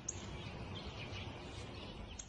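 Faint, sparse sparrow chirps sound a few times over a quiet, hissy outdoor background.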